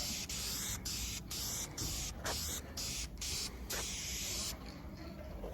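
Aerosol spray paint going onto the oil pan of a 1956 Ford Thunderbird in a series of close, hissing bursts with brief gaps between passes, steady and fairly quiet.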